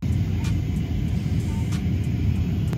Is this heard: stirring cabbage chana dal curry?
no